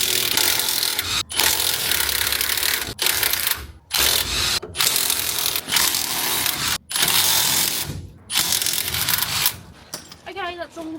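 Ratcheting and clattering of tools undoing the bolts around the rear differential housing of a Nissan Patrol, loud, close and continuous with short breaks, voices talking over it.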